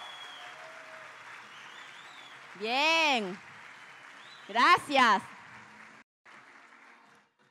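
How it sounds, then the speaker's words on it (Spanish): A seated audience at a live business event rises to applaud people who already have their car: a steady, moderate wash of clapping with two brief vocal bursts and a few spoken words over it, cutting off near the end. "Voy a invitar a todas las personas que ya tienen su auto que se pongan de pie para brindarles un fuerte, fuerte aplauso"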